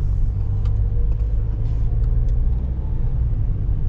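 A Nissan March 1.2 driving on a road gives a steady, close interior rumble of engine and tyres that holds constant throughout with no talk.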